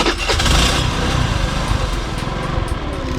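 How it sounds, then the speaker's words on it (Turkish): A Kuba Trendy 50 motorcycle, a 2020 model, is started on its electric starter with a little throttle, then runs with a loud, close, buzzing engine that settles into a steady idle. "Aynı şekilde çalıştırmak için frene basıyorum ve hafif gaz vererek marşa dokunuyorum"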